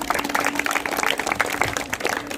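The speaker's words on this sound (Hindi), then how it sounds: "जोरदार तालियां सर के लिए" Applause at a school principal's farewell ceremony, a crowd clapping continuously and loudly throughout, with a dense, even patter and no talk over it.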